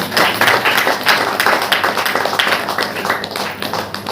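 A church congregation claps in praise at a Saturday worship meeting, loud continuous clapping in a quick rhythm filling the room, with little speech over it.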